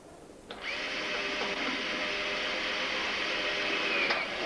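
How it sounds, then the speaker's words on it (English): A power drill runs in one steady whine for about three and a half seconds, drilling out a rivet on a car panel, close and fairly loud, with no talking. "We're going to drill out those two top rivets there."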